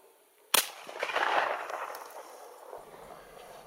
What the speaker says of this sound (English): it wasn't a great shot and did require a second shot